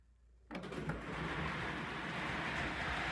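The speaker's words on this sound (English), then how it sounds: "And there the train goes." A small toy train starts up on a museum display and runs steadily after a sudden onset, giving off a continuous mechanical whir and rumble with no talking over it.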